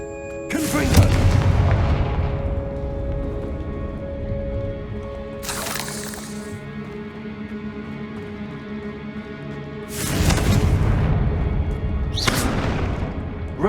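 Confringo spell explosions in Hogwarts Legacy boom out several times, each a loud burst with a long fading rumble, the blasts coming in uneven pairs over a steady hum of game ambience.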